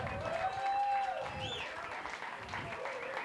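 A comedy night audience claps and cheers for the host, a broad wash of applause that swells early and then settles, with crowd noise and a voice faintly underneath.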